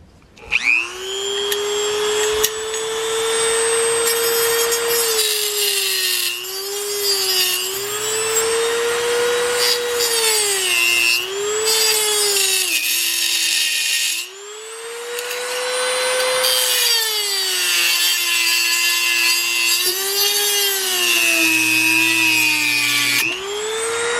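Cutting wheel slicing through metal during a chassis-mounted front splitter install, a loud continuous high whine with a steady pitch that dips and recovers as the wheel bites, running nearly unbroken for about twenty-four seconds.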